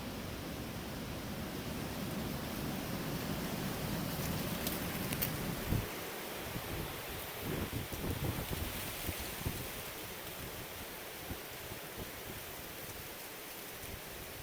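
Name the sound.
wind blowing through woods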